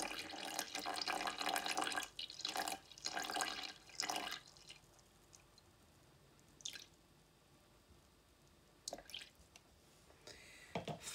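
Cold or room-temperature tap water runs into a mixing bowl while preparing sourdough dough, a few bursts of splashing and dripping from a faucet with quieter pauses between, close and fairly soft.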